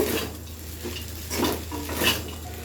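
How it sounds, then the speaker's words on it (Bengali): Peanuts being stirred into sabudana pulao in a pan make soft scraping and clinking spoon strokes. The strokes come in a few uneven pulses over a low background sizzle. "বাদামটা দিয়ে খুব ভালোভাবে মিশিয়ে নেব"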